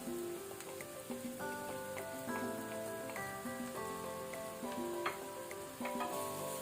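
Ground coriander, chili and turmeric fry in a pan over a low flame with a quiet, continuous sizzle, and a soft melody plays underneath.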